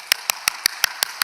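A church congregation applauds at a Sunday service in seven sharp, evenly spaced bursts of clapping, each one loud and crisp with short gaps between, and no voices are heard over them.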